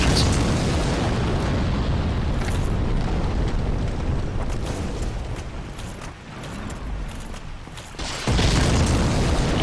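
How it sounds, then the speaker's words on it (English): Explosions in the video game Dark Souls, a steady loud roar of booming blasts with a brief dip before a fresh burst near the end. "I've got to make a run for it between these explosions"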